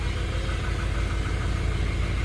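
A Toyota Innova diesel engine idles with a steady low rumble and faint knocking vibration, close and continuous, with no talking.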